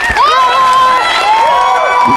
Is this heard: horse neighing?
no